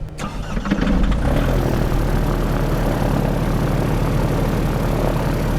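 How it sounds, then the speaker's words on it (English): A Diamond DA62 propeller aircraft engine cranks briefly, catches, and settles into a loud, steady rumbling idle, heard close by from inside the cabin, with no talking. "Now we're sitting in an airplane, running the engine"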